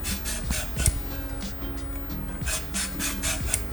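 Lotus root skin being peeled for a Korean braised side dish, giving rhythmic scraping rasps repeated about every half second, close and fairly loud, with a faint clunk of the root or peeler partway through.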